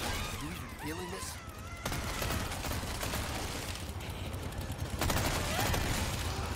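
Gunfire in Resident Evil 4, dense bursts of rapid shots with sharp cracks and clattering, coming in waves over several seconds amid other game noise, fairly faint overall.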